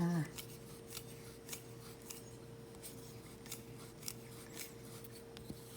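Hacksaw cutting a pipe set in a wall, with faint rhythmic rasping strokes at about one per second over a steady background hum.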